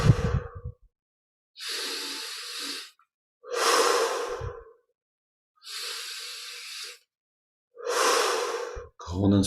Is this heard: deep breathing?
yes